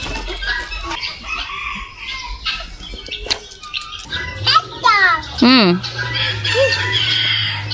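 Chickens cluck and a rooster crows nearby at a crocodile farm in Miri, with wings flapping and people chatting in the background.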